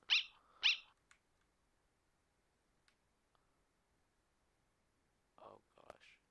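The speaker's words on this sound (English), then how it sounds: "It's a dog." Two sharp, bright dog barks from the Undertale video game open the passage, loud and close together, followed by faint scattered game blips and a short burst of voice near the end.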